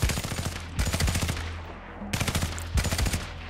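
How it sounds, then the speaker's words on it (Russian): Rapid bursts of automatic gunfire from a video game, loud and close, in several sharp volleys separated by brief pauses. "Пару выстрелов."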